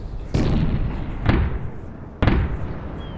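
Ship cannons fire broadside in a Napoleon Total War multiplayer sea battle, three heavy booming blasts spaced about a second apart, each with a rolling rumble tail, loud and close.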